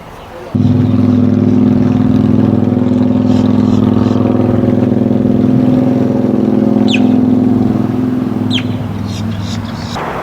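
A loud airboat engine on the water in Florida starts abruptly and holds a steady, deep droning hum close by, easing slightly toward the end.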